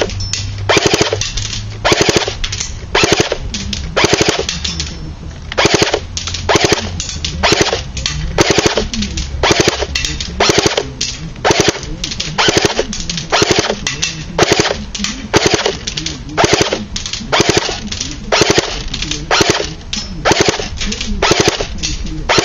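A JLS FN2000 airsoft gun fires BBs on full auto in rapid, loud, close bursts of sharp cracks, repeating steadily with brief gaps between strings.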